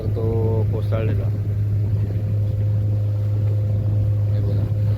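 A boat chugs across the sea near Vijaydurg fort, its engine giving a constant low drone that runs steadily throughout, with wind and water noise and a brief bit of talk at the start.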